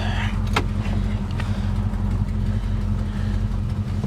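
A 1969 Chevelle SS with a non-stock engine idles and runs steadily, a loud, deep rumble that holds constant throughout with a brief higher rattle near the start.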